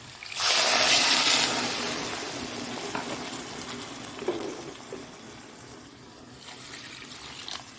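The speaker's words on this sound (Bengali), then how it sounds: "জল দিয়ে দিচ্ছি" Water poured into a pot of sautéed, partly mushy potatoes: a loud rushing gush lasting about a second, then fading into softer sizzling and bubbling with a few faint clinks.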